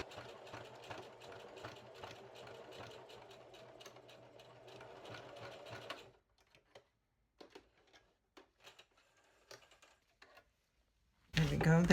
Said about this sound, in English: So I'm going to go around with my zigzag stitch.